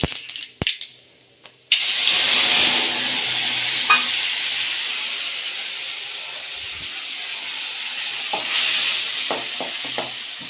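Potato wafers fry in hot oil with a steady, bright sizzling hiss that rises after a few sharp clatters at the start and carries on evenly, swelling slightly near the end.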